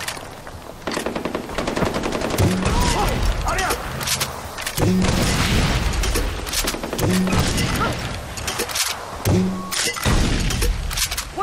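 Heavy gunfire in the video game Far Cry 4: loud, sustained machine-gun bursts and rapid shots with booming impacts, under excited voices talking over the noise.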